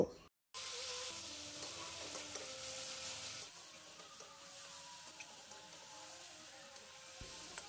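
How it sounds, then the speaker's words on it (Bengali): Chopped green chilli, tomato and ginger-garlic paste sauté in a pan, making a faint, steady hiss with a few soft stirring clicks after an abrupt start. "সব কিছু একটু ভালো করে কষিয়ে নেব।"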